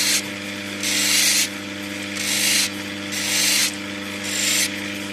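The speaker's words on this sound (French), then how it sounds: "On va gratter là parce qu'il n'y a pas de couleur ici." An Australian Coober Pedy opal is scraped to shape it, giving five loud rasping strokes of about half a second to a second each, spaced in a steady rhythm over a constant low hum, with no talking.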